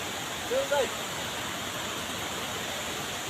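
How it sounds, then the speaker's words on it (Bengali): Water rushes down a slippery waterfall in Malaysia, a steady broad roar heard from a distance, with a couple of brief faint vocal sounds near the start. "এই যে এই যে পানি নামে"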